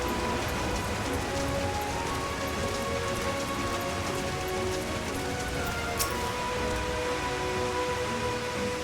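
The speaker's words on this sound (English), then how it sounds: "Especially the rain." Rain falling on a beach in Final Fantasy XIV, a steady dense hiss of drops hitting the ground that stays even and unbroken, with no voices.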